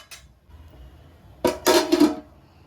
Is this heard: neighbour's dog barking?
no